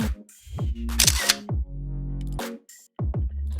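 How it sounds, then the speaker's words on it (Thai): Camera shutter clicks while photographing Tokyo Skytree and the golden cloud sculpture of the Asahi building, several sharp mechanical snaps in quick succession, close and loud, with no talking. "เราก็ต้องมีการ แชะรูปกันสักหน่อยแล้ว"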